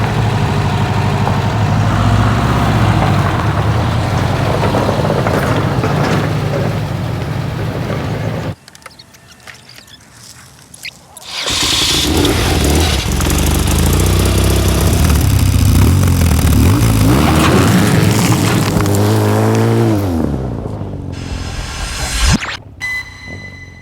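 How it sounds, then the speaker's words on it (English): A 2013 BMW R 1200 GS travel enduro's boxer engine runs loudly and close for most of the time. It drops out for a few seconds, then returns and rises in pitch as the bike speeds up. "Start the engine, please."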